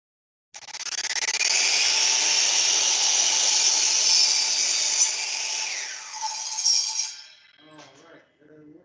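A power saw cuts a piece of material during a construction demonstration, a loud continuous whirring rasp lasting about six seconds before winding down, followed by a short voice.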